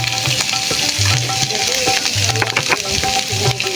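Spiced beef tripe is stirred in a pan with salt, coriander, chili and turmeric, making a loud close sizzle broken by repeated scraping and knocking strokes of the spoon, with no voices.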